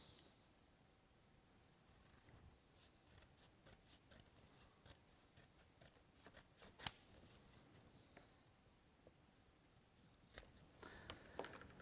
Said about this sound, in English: And we can cut that out with the scissors.